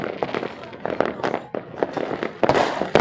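Firecrackers burst in a rapid, irregular volley during New Year celebrations, sharp loud bangs crackling one after another for several seconds, with a few voices faintly under them.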